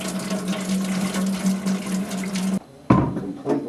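Water from the storage tank of a WaterMax H3500 RO system drains into a sink in a steady close splashing flow. It then cuts off abruptly, followed by a couple of brief gurgles.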